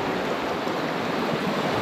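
Steady broadband rush of a brook flowing near a lake, constant and fairly close with no pauses or voices.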